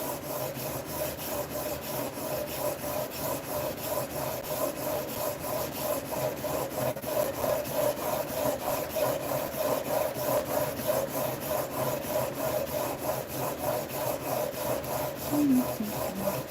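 A Buck Bros hand plane is rubbed back and forth on heavy-grit abrasive, producing a rhythmic, close scraping rasp in regular strokes throughout, with no speech.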